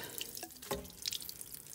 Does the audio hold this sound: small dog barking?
no